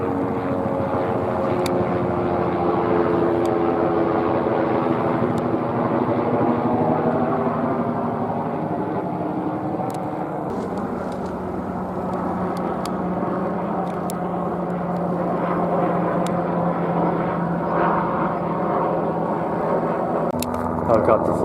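A helicopter passes overhead with a continuous, throbbing rotor and engine drone that stays loud throughout, while a voice talks faintly underneath.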